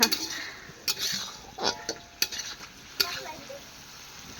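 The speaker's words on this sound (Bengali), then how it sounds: "আমি এখন লাল লাল করে ভেজে নিয়েছি" Food fried in a pan until reddish brown: a close, steady sizzle with sharp spatula scrapes and clinks of metal utensils against the pan at irregular intervals, no voices.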